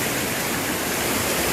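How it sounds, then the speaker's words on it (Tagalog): Angayan Falls, a hidden waterfall, pours with a strong, steady flow: a loud, unbroken broadband roar of rushing water close by, with no voices. "Ito malakas yung agos ng tubig."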